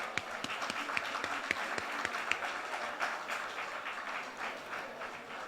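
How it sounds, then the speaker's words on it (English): Guests at a USA Boxing Alumni Association Hall of Fame induction reception give a last round of applause to the honorees, steady clapping from a modest crowd with several sharp, distinct claps standing out close by. "I want one last round of applause for all of them."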